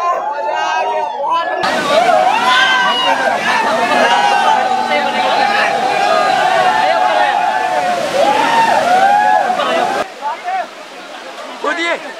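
Water at Neer Waterfall in Rishikesh, Uttarakhand, pouring and splashing as a loud, continuous broadband rush, with people chattering and shouting over it; the roar cuts off abruptly near the end.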